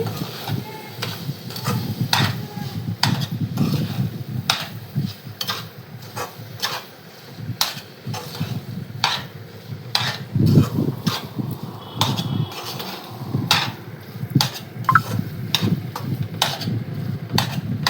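A spoon stirs carrot halva with sugar in a pan, making soft, close, irregular scraping and tapping clicks against the metal with a faint sizzle underneath.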